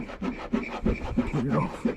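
A hand rubs badge adhesive off car paintwork on a boot lid, making quick, rhythmic scrubbing strokes that are close and moderately loud, with a voice faintly underneath.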